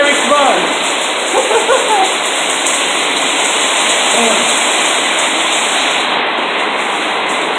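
Heavy rain pours down steadily in a dense, even hiss, a close and loud downpour ahead of a forecast flash flood.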